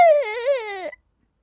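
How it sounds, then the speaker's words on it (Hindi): A single short, wavering whimpering cry in a Hindi cartoon set in a forest, voiced loudly and close, gliding downward before stopping abruptly into silence. "तभी उसे रोने की आवाज आती है।"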